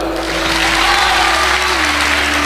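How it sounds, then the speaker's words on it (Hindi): An audience at a motivational lecture breaks into loud, sustained applause, a thick continuous clatter of many hands held at full volume throughout with a low hum beneath it. "इस लड़के की हिम्मत पे ताली बजाओ यार"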